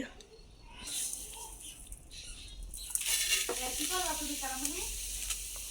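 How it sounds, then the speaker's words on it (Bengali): Quiet background at first, then a little oil begins sizzling steadily in a frying pan for frying vermicelli, with faint chirping or voice-like sounds in the background. "আমি ফ্রাই প্যানে একটু তেল দিয়ে দিছি"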